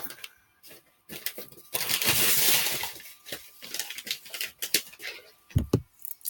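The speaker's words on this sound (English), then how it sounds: "Okay, so I have some shards of glass." Sharp shards of glass are handled and stirred, giving scattered light clinks and scraping crunches with a denser rustling burst early on, then irregular separate tinkles, close and fairly quiet.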